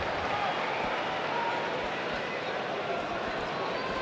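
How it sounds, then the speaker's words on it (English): Arena crowd noise from the WWE 2K19 wrestling game: a dense, steady roar of cheering fans that holds at an even level for the whole stretch, with no break or clear peaks. "by the sound of this crowd, I think they're getting what they wanted."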